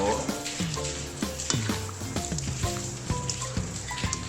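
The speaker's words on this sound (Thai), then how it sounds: "แล้วเราก็ทำการผัดคลุกเคล้าครับ นี่เลยผัดคลุกเคล้า" Vegetables are tossed and stir-fried in a hot pan, with a loud, close sizzle and repeated clanks and scrapes of a utensil in an irregular rhythm, and a bit of faint talk in the background.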